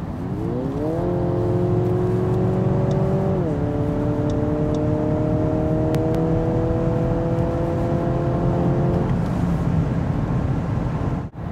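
A 2023 Mercedes GLC 400e hybrid SUV engine rises steadily in pitch as it accelerates at full power, a smooth whining drone with harmonics climbing, briefly dipping, then holding loud and close before cutting off.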